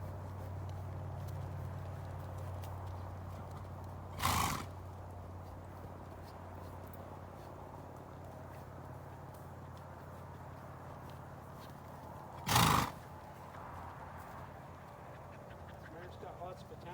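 A young mare is ridden and schooled toward becoming a hackamore and bridle horse, with soft, steady hoof steps and two sharp, louder thumps standing out over quiet ambient noise.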